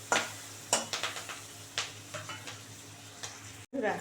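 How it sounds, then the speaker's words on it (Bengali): Onion stalks and green chillies fry in a pan of hot oil, a soft sizzle broken by a string of sharp ticks and scrapes from stirring, close and with no voices. "একটু ভাজা ভাজা হোক পেঁয়াজ কলি আর লঙ্কাটা"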